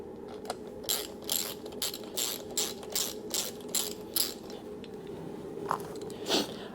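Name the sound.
ratchet tightening bolts on Kawasaki ZX10R engine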